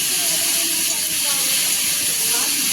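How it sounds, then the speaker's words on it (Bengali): A constant, loud hiss of mustard flowers frying in a pan fills the scene, with voices talking faintly underneath. "এই সর্ষে ফুল ভাজা হচ্ছে"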